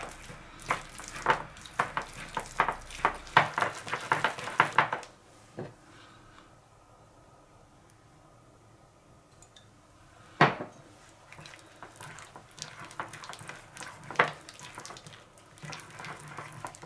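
Sesame paste being stirred with sesame oil in a bowl, a clattering utensil scraping and tapping against the bowl in quick busy strokes, then a quieter stretch broken by a few sharp knocks near the end.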